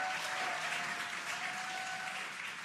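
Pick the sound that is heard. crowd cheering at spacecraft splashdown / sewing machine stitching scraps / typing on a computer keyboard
crowd cheering at spacecraft splashdown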